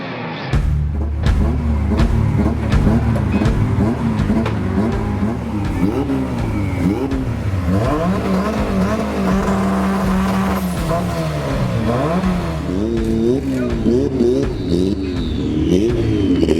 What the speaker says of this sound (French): Je suis pilote de cette super Honda Civic de 500 forces.